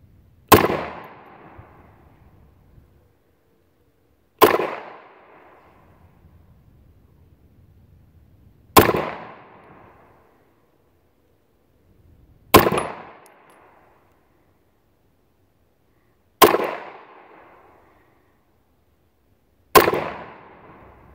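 A police trade-in Beretta Model 92 pistol fires down range: six single loud shots, each with a short ringing echo tail, spaced about four seconds apart, with no talking.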